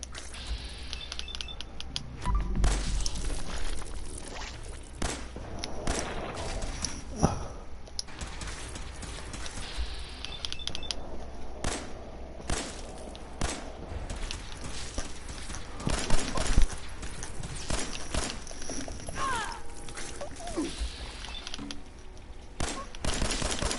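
Gunfire in the video game Fallout 4, with repeated sharp shots and short bursts scattered throughout over continuous game background noise, moderately loud, with no talk.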